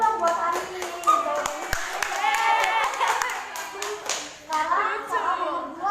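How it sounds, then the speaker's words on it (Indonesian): A classroom of students claps for a classmate after she answers, a burst of quick, scattered hand claps with children's voices chattering over and between them, loud and close. "beri tepuk tangan dulu dong buat Hani"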